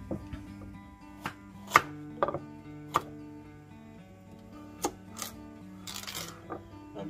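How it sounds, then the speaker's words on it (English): A knife cuts carrots lengthwise into quarters on a cutting board: roughly ten sharp, close chops at uneven intervals, with quiet gaps and light handling noise between them and no talking. "I'm just going to cut my carrots into quarters long ways"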